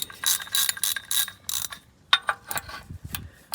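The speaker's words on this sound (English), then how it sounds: "We need our actual 3/8 drive ratchet. So that's in undo mode. Let's pop that on." A 3/8-inch drive ratchet set to loosen works on the oil drain plug of a Toyota 2GR-FE V6, producing loud bursts of rapid pawl clicking in several separate strokes, close up with no talking.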